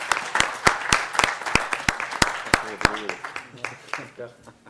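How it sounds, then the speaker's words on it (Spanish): Scattered applause at an audit seminar coffee break, a modest group producing sharp, distinct claps in an uneven rhythm that thin out and fade toward the end, with faint voices murmuring underneath. "Y le damos un aplauso también para el señor que salió beneficiado."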